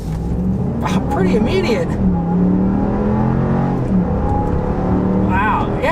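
A 2022 Jeep Wagoneer Series 3 SUV accelerating hard in sport mode on a back road, its engine note rising steadily inside the cabin under continuous talk.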